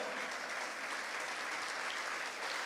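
Steady, dense applause from a church congregation fills the whole stretch at an even level, a broad wash of many hands clapping without breaks.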